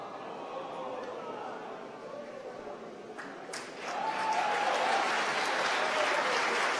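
Applause breaks out for a rocket's first stage landing, a steady patter of clapping that swells and grows louder partway through and continues to the end.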